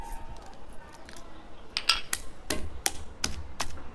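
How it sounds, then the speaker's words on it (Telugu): Garlic cloves pounded with a stone pestle in a mortar for gongura chutney, a series of sharp, irregular knocks and scrapes up close, growing denser toward the end. "ఎల్లిపాయలు వేసుకొని ఇలా దంచుకోవాలి మంచిగా"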